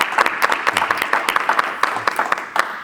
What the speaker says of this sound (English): Can we give Lance a round of applause?